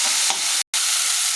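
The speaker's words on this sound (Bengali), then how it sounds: "চিংড়ি মাছ আমি বেশি ভাজবো না, অল্প ভাজবো" Prawns fry briefly in hot oil in a pan, a loud, continuous sizzle with a stir near the start and a sudden short break in the middle.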